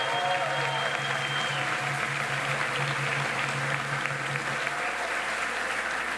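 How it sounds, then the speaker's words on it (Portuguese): Audience applause at a swearing-in ceremony for a culture minister, a dense, steady wash of clapping that carries on evenly for the whole stretch without pause, fairly loud and close. "Os aplausos, por favor."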